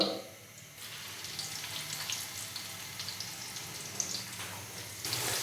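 Finely chopped onions, two medium ones, hit lightly heated ghee and sizzle steadily in a pan, a broad continuous frying hiss that swells after the first second and stays close and even throughout.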